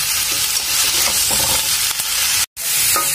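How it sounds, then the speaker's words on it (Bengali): Potato and cauliflower frying together in a karai, a dense close sizzle with irregular stirring knocks, cut by a brief silent gap partway through before the sizzling resumes. "দুটি একসঙ্গে ভেজে নিই।"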